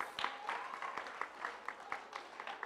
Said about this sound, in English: give these boys and girls a round of applause for working so hard on science this 9 weeks